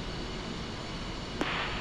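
Inside the DCS World simulator, the F-5E fighter's jet engines whine at a steady moderate level during a cold start, with a sharp click about three quarters of the way through and a slight rise in hiss after it.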